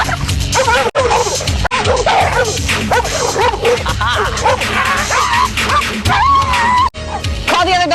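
Several dogs bark, yip and whimper loudly and repeatedly close by, with people talking among the barking.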